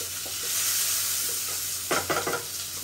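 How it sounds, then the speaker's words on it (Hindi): Mushrooms and green bell peppers sautéing in a pan, a steady close sizzle with a short burst of stirring scrapes near the end, no voices. "उसके बाद मशरूम डाला, उसे एक मिनट के लिए सॉटे किया"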